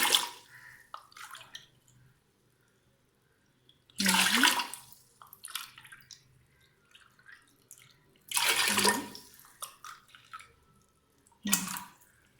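Water pours in three separate measured portions with quiet gaps between, splashing into a cooking pot of rice and lentils close by.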